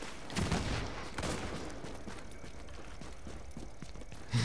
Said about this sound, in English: Who's shooting at me? Is this nigga... Oh my god, they're shooting at me.